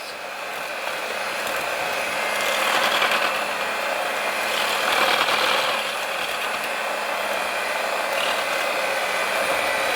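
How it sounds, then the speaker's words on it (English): An electric mixer whirs steadily through keto blondie batter, a loud continuous motor hum that swells slightly in a few pulses, with no talking. "So I'm just going to give this a good mix."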